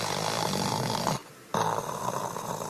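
A human voice imitates deep, slow snoring with a grumbling rasp on both inhale and exhale, loud and close, broken by a brief pause before the rough breath resumes.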